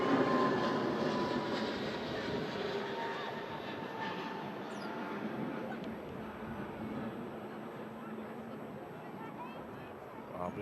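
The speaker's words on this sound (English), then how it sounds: "Keeping the plane on track with the runway." An airliner rolls along the runway at Manchester Airport with a broad, steady engine roar. The sound is heard from a distance and fades slightly over time, with no talk in the clip.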